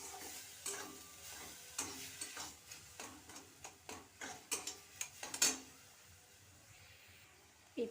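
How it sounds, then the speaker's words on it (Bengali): Papaya with turmeric stirred in a pan for papaya chutney, a spoon scraping in a steady series of close, sharp clinks and scrapes over a faint sizzle, then a short pause before one last scrape. "পেঁপেটাকে একটু নাড়িয়ে নিলাম"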